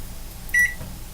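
A single short electronic beep from a microwave oven keypad, sharp and close, in an otherwise quiet room.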